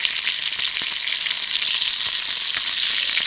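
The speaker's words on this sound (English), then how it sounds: "I don't know if you can hear me over all the sizzling." Meat trimmings fry in a hot pan at a campsite, giving a steady, loud, dense sizzle with scattered crackles and pops throughout, no voices.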